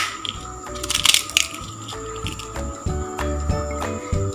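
Crisp papdi is crumbled over chana chaat, giving close, loud crackling and crunching bursts with some light clinking. The crumbling is busiest early and thins out toward the end.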